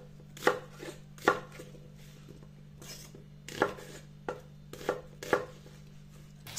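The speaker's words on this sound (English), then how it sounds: "I need a medium onion, just going to dice it big." A knife dices an onion on a cutting board, sharp clustered thwacks repeating irregularly, close and clear with a low hum underneath.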